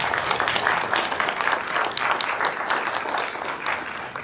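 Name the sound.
audience applause for spelling bee spellers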